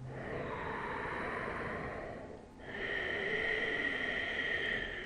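Loud, slow ujjayi yoga breathing close to the mic, a long rushing inhale and a long exhale with a brief pause between, steady and ocean-like with no talking.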